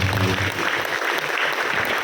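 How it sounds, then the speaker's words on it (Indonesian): Seminar audience applauding at a parenting seminar held in a pesantren (Islamic boarding school) in Banten, a dense, steady wash of clapping filling the room for about two seconds, with some voices mixed in at the start. "tepuk tangan untuk kita semua"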